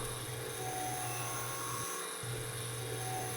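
A wood lathe turning Hububalli wood gives a continuous steady whine with a constant low hum, briefly dropping out near the middle before resuming.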